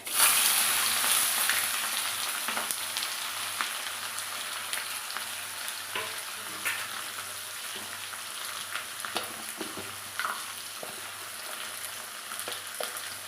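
Onion sizzles and crackles steadily in hot oil in a pot with bay leaf, dried red chili and cumin, a loud burst at first settling into even frying with occasional stirring knocks.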